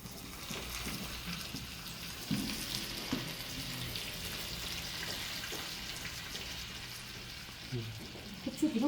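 Hot oil at about 170 degrees fries and bubbles while chili oil is made, a steady soft sizzle with occasional small clinks and bursts.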